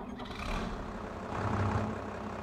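A tractor engine in Farming Simulator 22 rumbles steadily at idle, a low continuous drone with no voices.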